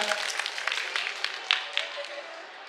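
An audience applauds Farah at a skincare talk show at a beauty expo, a short burst of scattered, fairly close claps that thins out toward the end, with faint background voices.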